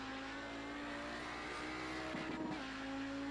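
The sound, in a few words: Audi 90 GTO race car sliding through Suzuka's last corner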